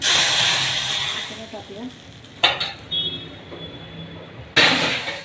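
Dal poured onto a hot pan for Saraswat-style dal toi bursts into sharp sizzling hisses, several loud short surges over a quieter crackle, with someone talking throughout.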